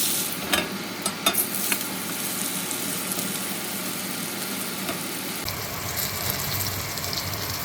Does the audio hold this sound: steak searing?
yes